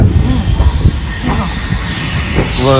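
A loud passing train rumbles close by, with clattering wheels and a sharp metallic squeal rising near the end.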